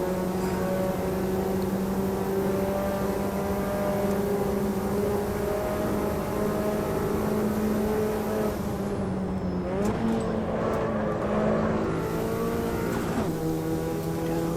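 Race car engine in Automobilista 2 droning steadily with strong harmonic tones, a turbo spinning up behind amid shifting revs and a brief burst of clatter and whoosh midway, close and continuous throughout.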